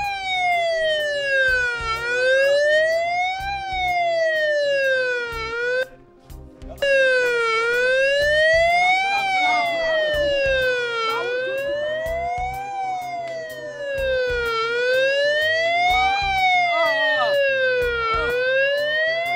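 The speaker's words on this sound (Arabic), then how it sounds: "اجت الإسعاف يا شباب" A loud wailing ambulance siren sweeps up and down repeatedly, pausing briefly midway before resuming, with engine rumble underneath.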